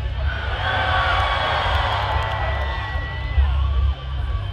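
Concert crowd at Afropunk 2019 cheering and shouting in a broad, sustained roar that fills the space, with a few brief louder swells near the end.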